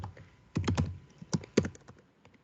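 Computer keyboard typing during a web coding session, a few clustered key clicks in two short bursts with quiet gaps between them, close and fairly crisp.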